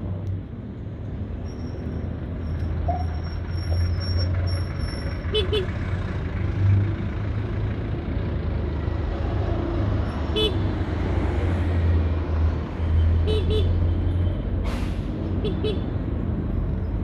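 Heavy road traffic in Caloocan surrounds a large truck loaded with sand, with a steady low engine drone, a few short horn toots and passing vehicles throughout, and a voice talking at times.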